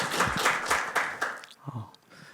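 An audience at a policy forum claps to welcome a speaker, several distinct bursts of clapping that soon thin out and die away, with faint speech at the tail.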